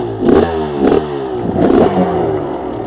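A KTM 300XC two-stroke dirt bike engine revs loudly and close up in three distinct blips, each rise and fall of the throttle separated by a steady idle.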